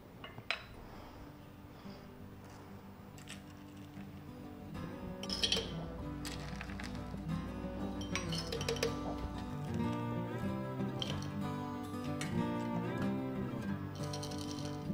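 Dry beans clinking and rattling into a glass jar, mixed with onion and garlic pieces, in a series of close, bright clinks and scattering taps with occasional louder knocks.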